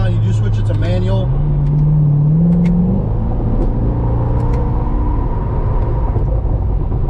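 A Chevrolet Corvette Grand Sport's engine revs in sport mode, a loud rising and falling drone with shifting pitch over a steady rumble, heard from inside the car.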